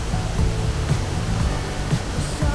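A waterfall in Panama throws up mist, its broad steady rush of falling water loud and close, with occasional low thumps and no voices.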